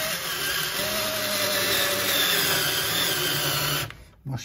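Old screws driven with a power driver into soft, mushy wood end grain without pilot holes, a steady whirring drive sound lasting several seconds before stopping abruptly, close and fairly loud with no talk.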